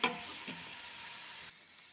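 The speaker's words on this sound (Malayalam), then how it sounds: "നമുക്ക് നന്നായിട്ട് ഇളക്കി ചേർക്കാം." Kerala-style chicken curry sizzling in a pan as it is stirred, a soft steady sizzle with a couple of scraping strokes near the start, close but quiet, dropping off near the end.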